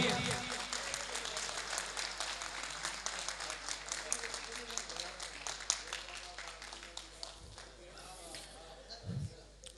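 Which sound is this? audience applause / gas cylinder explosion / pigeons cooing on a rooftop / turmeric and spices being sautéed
audience applause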